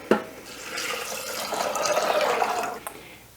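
Water poured into a blender jar, a steady, moderately quiet splashing rush lasting about three seconds that begins with a small knock and ends with a faint clink.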